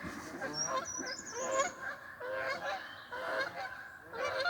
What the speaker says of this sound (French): Ah, c'est les oies sauvages.